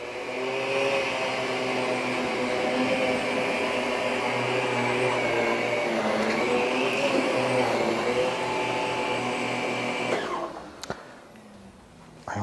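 A Miele Guard L1 vacuum cleaner runs on low suction with a steady, close motor whine and airflow roar that drops away near the end, followed by a couple of clicks.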